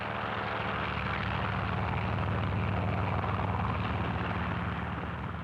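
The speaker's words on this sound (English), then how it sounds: "Also taking off from the carrier are control planes that will guide the radio-controlled drone boat." Aircraft engines roar steadily as control planes take off from an aircraft carrier, a dense, loud, continuous drone with a low propeller throb and no clear breaks.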